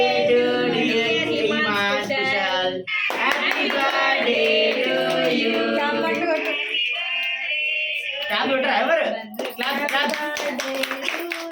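Family members clap along at a small home celebration of a child's third birthday, near rhythmic claps mixed with chatter and voices throughout.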